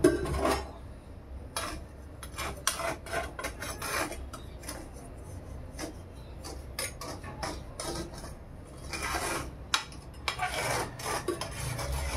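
Hot sand is scraped and pressed by hand around a cooking pot for sand-baked chicken, giving gritty rasping strokes and scuffs that come in uneven bursts, fairly close, with no talking.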